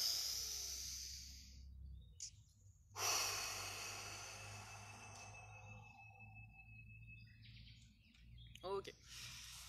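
Deep inhalations during an outdoor morning breathing exercise, long breathy rushes of air, close and fairly loud, with birds chirping in the background and a brief voice.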